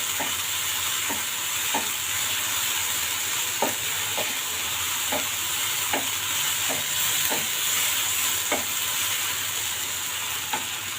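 Egg korma masala fries in a pan with a steady loud sizzle, while a spoon stirs and scrapes against the pan in regular taps throughout.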